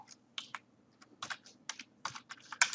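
Irregular clicks of typing on a computer keyboard, close and clear, with small bursts of keystrokes separated by short pauses and no talking.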